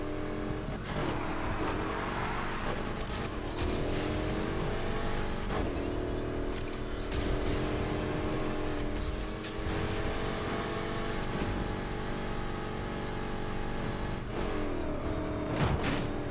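An off-road car races in Need for Speed Heat, its engine a loud, steady drone with rising and falling revs throughout and no talking.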